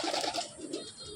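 Soft cooing of a Kerala breed pigeon in a loft, a short murmuring coo close by with faint background noise.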